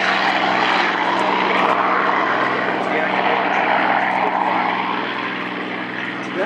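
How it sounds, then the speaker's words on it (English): A P-51 Mustang propeller fighter flies over the Courtland Air Show, a loud sustained droning engine roar that fades slightly toward the end, with people talking faintly beneath. "P-51 Mustang."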